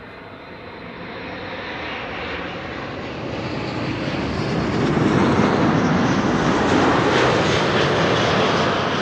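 A Saudia airliner arriving from Jeddah roars in at Amsterdam Schiphol Airport, its loud, broad engine noise building steadily and peaking as it passes close by.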